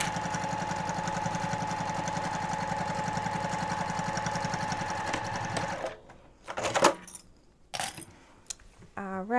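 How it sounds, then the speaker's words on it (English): A sewing machine runs a fast, even stitch down the length of a fabric bag for about six seconds, then stops; a few clanks and handling noises follow. "just do that stitch straight down the length of your bag"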